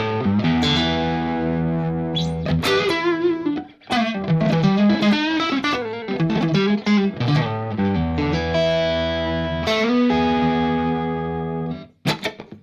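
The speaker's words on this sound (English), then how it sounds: "guitar with the BB preamp as well sounds like this" Distorted electric guitar played through a Bogner Shiva amp and BB preamp, chunky rock riffs and sustained chords with brief gaps and a final stab, loud and alone.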